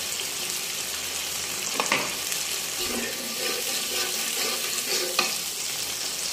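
Ground mustard paste and spices fry in hot mustard oil, a steady close sizzle running throughout with a few louder stirring scrapes.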